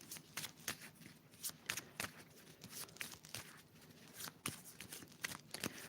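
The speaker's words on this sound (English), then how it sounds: "So I'll shuffle the cards." A deck of playing cards being shuffled during a card reading, with repeated crisp riffling bursts and soft papery slaps at close range, no talking.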